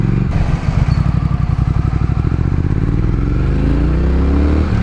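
A powerful motorcycle riding on a road, its engine a loud, steady, close throbbing drone that builds as it accelerates, with no talk over it.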